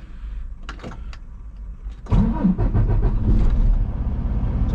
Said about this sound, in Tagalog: So I am going to start my engine.